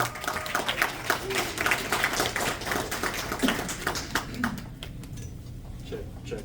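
An audience claps steadily for several seconds at a small live event as a couple is welcomed on stage, the applause thinning toward the end.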